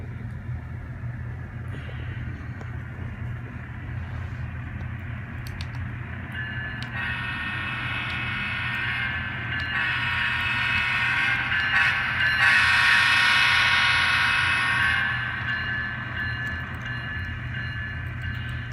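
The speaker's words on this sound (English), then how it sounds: "It's great to have a scale model engine with the brand new electrical e-bell like that." A CSX Tier 4 GEVO N scale model diesel locomotive runs steadily with a soft, continuous mechanical hum, while its electric bell rings in a bright, sustained layer that swells in the middle and then fades.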